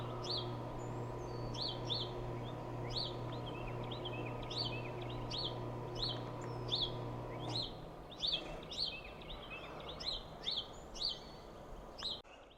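Small birds chirp and tweet repeatedly outdoors, a rhythmic series of bright calls at moderate distance, with a steady low hum underneath that cuts out partway.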